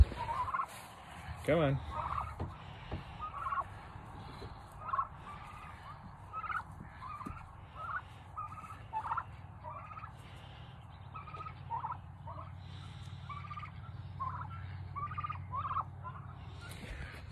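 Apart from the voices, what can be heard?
turkeys gobbling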